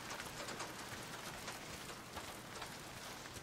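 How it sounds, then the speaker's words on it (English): Rain falls steadily in the video game Days Gone, a soft, continuous hiss with scattered drops pattering on surfaces, fairly faint and even throughout. "And then started raining."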